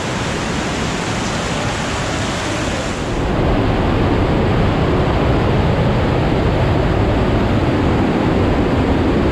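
Water rushing through the Partnachklamm gorge in Bavaria, a loud continuous roar of falling, churning water that grows fuller and broader after a few seconds, with no break.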